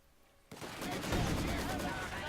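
Machine-gun fire from the World War II strategy game Company of Heroes 2 breaks in abruptly after a quiet start, then rattles on as a dense, loud burst of overlapping shots and battle noise.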